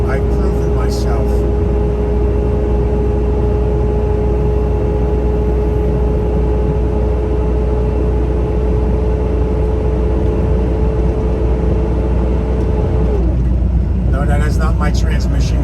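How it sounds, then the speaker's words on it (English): Big truck engine fan roaring steadily to cool the engine after a hill climb, a loud constant low rumble with a whine that holds and then drops away near the end. "That is my engine fan cooling the engine down because I just climbed a hill."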